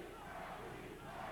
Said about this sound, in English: Now they're chanting, Frankie, Frankie.